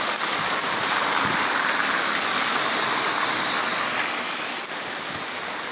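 Steady rain pours over the city of Sobral, Ceará, near the Nossa Senhora de Fátima arch in the late morning, a dense, even hiss that fills the scene without speech.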